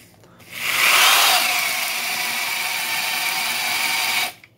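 A Milwaukee 3/8-inch Hole Shooter drill bores a hole with a 1-inch speed bore bit, a loud, close, steady whine and rasp that starts abruptly, holds for about four seconds and then cuts off.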